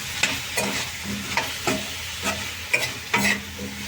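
Onion and tomato masala for an egg curry cooking in a pan, with a spoon scraping and stirring in regular strokes over a steady close sizzle; no talking.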